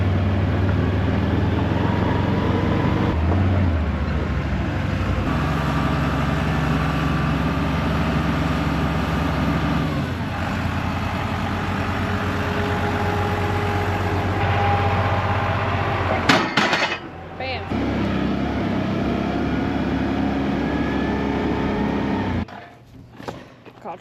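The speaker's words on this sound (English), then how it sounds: "That's why the loader tractor's on." A farm loader tractor's engine runs at a steady idle, a constant low diesel rumble with occasional clanks and shifts in tone, and voices talk faintly over it near the end.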